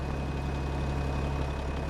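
In a farming video game, a tractor engine moving a baler runs as a steady, low, droning hum with a constant tone, at even moderate volume and with no other sounds.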